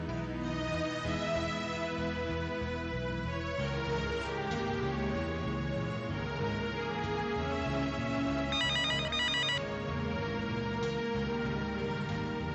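Telephone ringing unanswered, a melodic electronic ringtone looping on and on at steady volume, with no voices over it.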